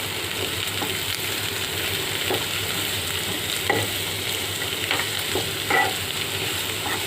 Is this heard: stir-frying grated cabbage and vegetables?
yes